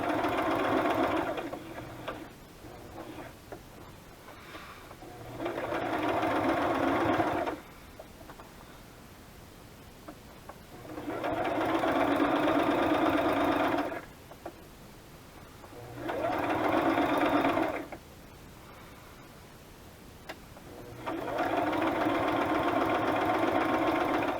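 A sewing machine stitches through a journal page in four bursts of steady whirring and clatter, separated by quiet pauses in which the page is turned.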